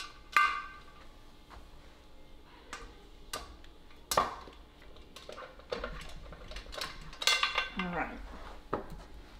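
Metal clinks and scrapes come from the wing-nut lid clamps of an All American stovetop autoclave sterilizer being unscrewed, with scattered sharp taps and ringing knocks among quieter pauses, close by.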